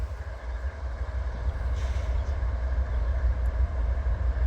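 Illinois Central locomotive 9426 rolls through Homewood Amtrak station, a continuous deep rumble of rail cars and engine near and loud, with a brief hissing swell partway through.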